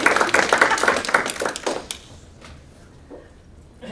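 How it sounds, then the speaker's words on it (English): A lecture audience applauds Dr. Kenna Archer at a history talk, a dense burst of clapping for about two seconds that quickly dies away into quiet room tone with a few scattered claps. "join me in a round of applause for Dr. Archer"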